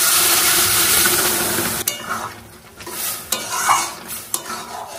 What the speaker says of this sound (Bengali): এদিক ওদিক একটু নাড়াচাড়া করে দিয়ে দেবো সেদ্ধ করে রাখা লাউ আর ডাল।